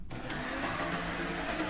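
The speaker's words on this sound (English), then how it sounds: "run a full-size household vacuum cleaner" A full-size household vacuum cleaner, drawing about 1600 watts from a Vatrer 12V 100Ah LiFePO4 battery, starts up almost instantly and roars steadily at close range, a loud continuous whine with a broad rushing hiss.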